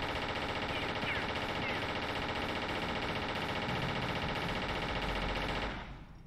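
Sustained rapid automatic turret gunfire in Tomb Raider III, a dense, loud, unbroken rattle of shots lasting several seconds before cutting off abruptly near the end.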